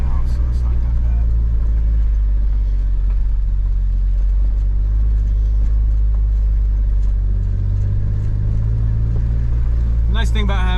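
A four-wheel-drive Jeep climbs mountain switchbacks, its engine a loud, steady low rumble that swells slightly toward the end while a person talks over it.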